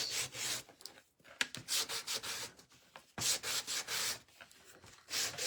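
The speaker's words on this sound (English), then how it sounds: "we are going to sand it a little bit" Sandpaper rubbing over a black-painted fishing pole to give it a worn look, in repeated scratchy strokes with short pauses between bursts, close and fairly loud with no talking.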